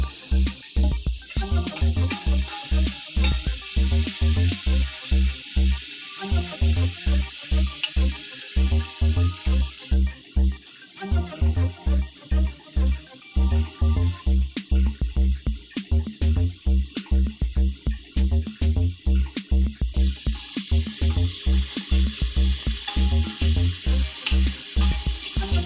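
Prawns frying in a pan as their water cooks out, a loud continuous sizzle and bubbling hiss, close up and steady, with faint stirring scrapes and no talk.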